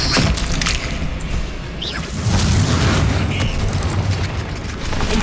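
Incendio, a fire spell in Hogwarts Legacy, erupts as a loud, dense roaring burst of flame and rumbling boom that swells again midway, with faint magical whooshes layered on top.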